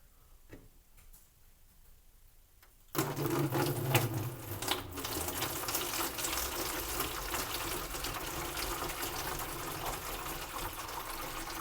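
Water poured through a funnel into a measuring container while making kombucha, a steady splashing, trickling pour that starts suddenly and runs continuously, close and fairly loud.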